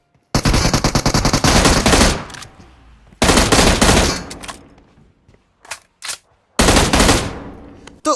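Rapid M16 automatic gunfire during a gunfight in PUBG: three long, loud bursts of fast, close shots separated by short gaps, with a few single shots in between.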